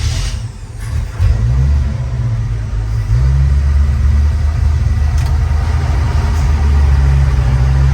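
A 1948 GMC pickup truck engine turns over and settles into a steady, loud low rumble that holds for several seconds, close by.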